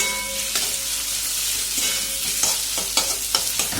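Chicken fries on a low flame for egg chicken chowmein with a continuous soft sizzle, broken by scraping stirring strokes that grow more frequent toward the end; nobody speaks.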